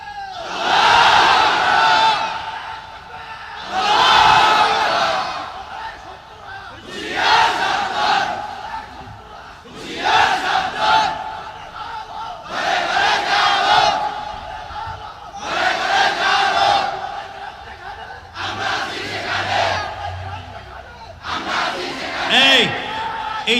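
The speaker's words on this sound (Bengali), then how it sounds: "ভালো তাকবীর দিতে পারেন এমন একটা যুবক দেখে দাঁড়ায় তাকবীর দাও তো মিয়া।" A large crowd at a Bengali Islamic sermon gathering chanting takbir in unison, roaring call-and-response bursts repeating about every three seconds, loud and reverberant, with a leader's voice between them.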